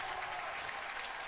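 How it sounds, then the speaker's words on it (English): Distant applause rises from a college baseball crowd at the Baton Rouge Super Regional between LSU and UCI, a steady soft patter of clapping with no break. "and the crowd reacts"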